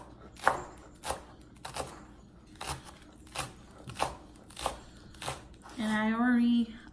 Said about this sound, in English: I'm just going to cut these into like really thin slices